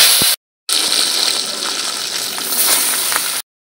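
Pabda fish dropped into hot oil in a pan give a loud, steady hiss and sizzle that runs for about three seconds, broken once by a brief cut to silence, with no talking.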